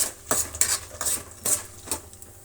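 A spatula stirs peanuts, urad dal and chana dal frying in a pan for puliyogare gojju, giving quick, close scraping and rattling strokes, about five in a row, over a faint sizzle.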